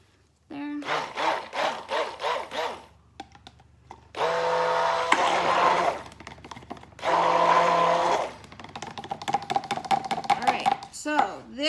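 Soap batter for a handmade soap is whipped by an electric mixer in two loud, steady bursts of about a second each, with a person talking before, between and after the runs.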